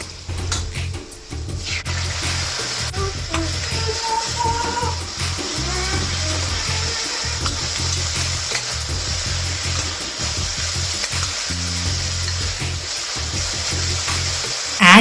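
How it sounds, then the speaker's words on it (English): Ginger garlic paste sautés with onions in a pan for a South Indian curry, giving a continuous loud hiss and sizzle with occasional stirring scrapes and no voices throughout. "Add the ginger garlic paste, saute well till it's aromatic."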